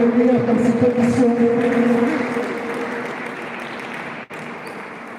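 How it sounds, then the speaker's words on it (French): Audience applause for two players at a French pétanque competition final is steady and moderately loud, thinning gradually toward the end, with a faint voice underneath. "on va applaudir encore les deux joueurs pour avoir donné le meilleur dans cette compétition"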